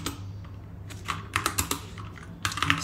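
Close computer keyboard typing while a Neovim Lua config file is edited, with a few scattered keystrokes followed by quick clustered bursts of clicks and no talking.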